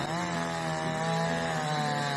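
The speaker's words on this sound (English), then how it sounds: "You see them using a chainsaw trying to get the ground softened up somehow." A chainsaw biting into frozen winter mud to soften the ground around a stuck M777 howitzer, its engine droning loud, close and steady for about two seconds without a break.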